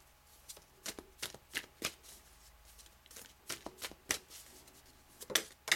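Tarot cards being shuffled and drawn by hand, a series of crisp, close riffling and slapping bursts at an irregular pace, quiet and alone with no talk.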